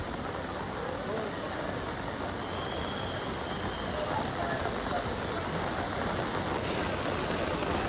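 Heavy cloudburst rain pours steadily in Haridwar near the Ganga, a dense, loud, unbroken hiss of downpour that fills the whole stretch with a faint engine-like rumble beneath.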